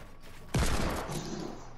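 A single loud hand cannon shot in the Fortnite video game, a sharp close blast at the start followed by a long decaying boom and rumbling tail, with no talk over it.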